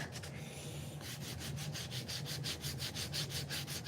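Rhythmic back-and-forth sanding strokes on a wet wooden knife handle, close and fairly quiet, a steady series of rasping passes repeating about four times a second with no voices.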